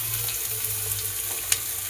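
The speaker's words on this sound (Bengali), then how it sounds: "সব সবজিগুলোকে ভাজতেছে" Vegetables frying in a pan as momo filling is prepared, a steady close sizzle and crackle running without pause, with one brief sharp spit near the end.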